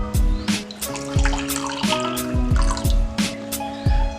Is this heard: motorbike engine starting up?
no